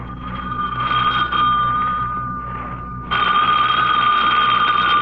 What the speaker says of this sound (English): Don't answer that, Lamont.